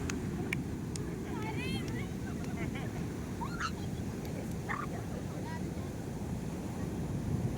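Sea waves rolling in at a beach at night, a dense low roar of surf with wind buffeting the microphone, and a few faint higher calls and voices scattered over the top.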